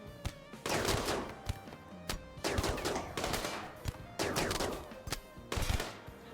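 Bursts of gunfire from the Rimworld video game, with machine-gun fire and friendly fire among colonists: repeated loud volleys in clusters, each burst a rapid rattle of shots, continuing across the whole stretch with brief gaps between.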